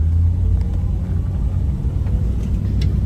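A 1972 Plymouth Duster with a 340 engine drives along on bias ply tires, and the cabin is filled with a loud, steady low rumble from the engine and road. Faint rattles come through now and then over the drone.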